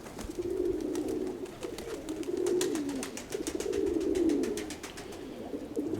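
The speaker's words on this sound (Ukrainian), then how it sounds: "Голубки в небі буду дивитися і насолоджуватися їхнім польотом" Pigeons cooing nearby in repeated soft, throaty rolling calls, with faint wing flaps and clicks scattered over the background.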